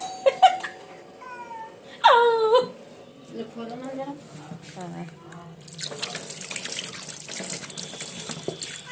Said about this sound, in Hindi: और अब इसे जो है पानी से धुल लिया जाएगा ताकि इसके ऊपर आटा लगा ना रहे